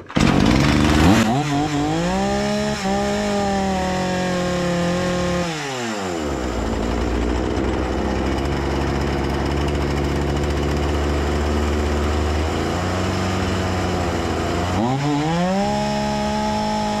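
A Husqvarna 236 chainsaw engine runs loud and close after a carburetor adjustment, revving high, then dropping sharply toward idle near the middle, idling roughly, and revving up again at the end.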